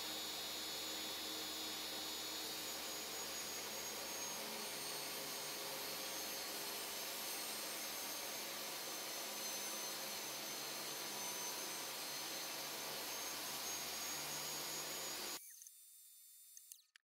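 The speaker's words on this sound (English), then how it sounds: "now I'll cut some decorative grooves into the side of the block" A power tool cuts decorative grooves into the side of a scrap-wood block for a shot glass serving tray, giving a steady, loud, continuous whine that runs unbroken and then stops abruptly near the end.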